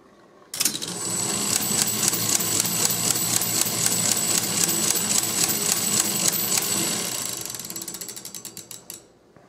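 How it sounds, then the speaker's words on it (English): Inside a Caille roulette coin-op slot machine forced to pay out, a tight spring drives the payout gear in a long, loud, rapid ratcheting whirr of clicking gears that starts abruptly, then slows into spaced clicks as it winds down. "So we'll force it to hit a payout, and you'll see the spring pulling this gear down"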